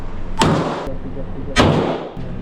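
Two sharp, loud gunshots ring out about a second apart at a shooting range, each a sudden blast followed by a short echoing decay, with faint background noise between them.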